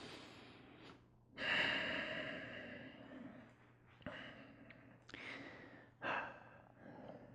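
Slow, audible breaths during a relaxation pose in a yoga class, several soft inhales and exhales with a few sharper gasps and sighs, close and quiet with no talk.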